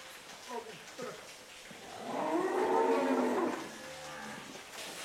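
A cow in a dairy farm shed lets out one loud, drawn-out moo in the middle, with quieter shed noises around it.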